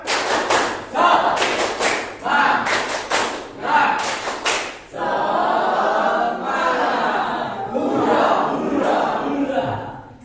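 A school class performs the rhythmic spirit clap, tepuk semangat, with loud, sharp clusters of claps in a repeating pattern, then the students shout together in a noisy chorus.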